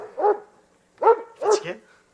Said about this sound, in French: C'est le chien du voisin.